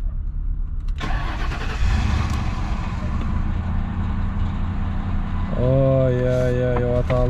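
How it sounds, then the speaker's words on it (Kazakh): A used car's engine cranks during its first start under its new owner, then catches and settles into a steady idle with a tonal hum, with a voice speaking briefly over it. "Ой, оталды машина."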